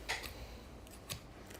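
Scissors are handled faintly nearby, giving a few soft, brief snips and clicks against a quiet room.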